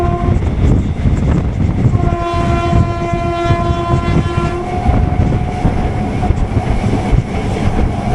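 A MEMU electric train runs on the Nilambur-Shoranur line in the early morning, a loud steady rumble of rolling carriages with sustained horn tones sounding over it, no talking.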